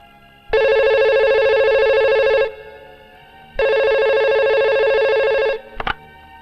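A telephone rings loudly in two long bursts in a tense night-time scene from a Bollywood action film, followed by a brief click, with no one speaking.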